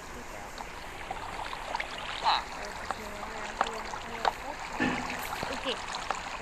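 Flowing water runs in the video game Lokicraft, a soft continuous trickling stream under faint clicks and a few short spoken words.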